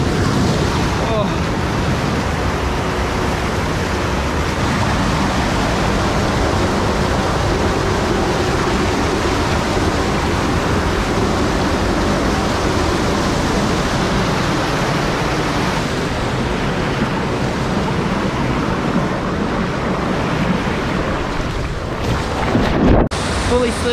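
Steady, dense rushing of a forest waterfall fills the scene continuously, a broad roar with no pauses, close and loud.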